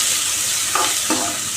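Onions and curry leaves sauté in a pan with a continuous bright sizzle, broken by two short scraping stirs of a spoon close by.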